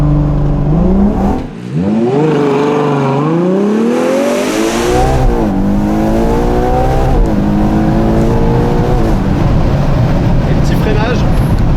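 A Ferrari Purosangue V12 launches from a standstill to 80 km/h, the engine note rising through several quick upshifts with rhythmic steps in pitch, loud and near, a voice talking briefly over the roar.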